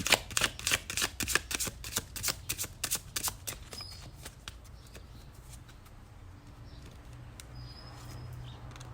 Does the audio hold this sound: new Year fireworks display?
no